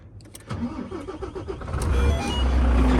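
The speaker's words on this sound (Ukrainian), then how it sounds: "Заводжу машину." A 2007 Volvo grain truck engine cranks with a quick rhythmic whir, catches, and settles into a loud, steady idle rumble close by.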